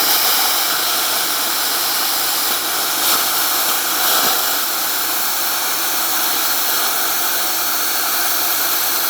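A BestArc plasma cutter running at 50 amps on 240 volts cuts through metal with a steady, loud, close roaring hiss that holds without break.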